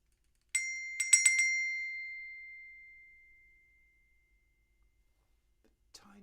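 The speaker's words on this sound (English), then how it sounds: "Maybe you've got some bells like this." Several small high-pitched bells jingle in a quick cluster of strikes, then ring out in a long fading shimmer before near silence, with a soft sound near the end.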